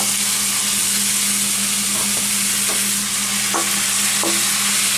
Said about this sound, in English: I'm gonna add my shrimps.